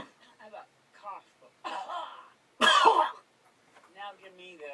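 Someone in a recording studio gives a single loud, harsh cough, with voice-acting talk and short vocal bursts before and after it.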